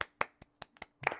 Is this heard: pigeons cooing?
no